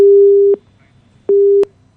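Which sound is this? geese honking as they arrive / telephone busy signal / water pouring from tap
telephone busy signal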